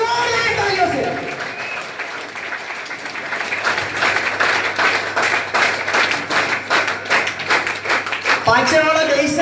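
A seminar audience breaks into loud, sustained applause as achievers are welcomed onto the stage, dense clapping that swells and continues for several seconds, with someone speaking over it at the start and end.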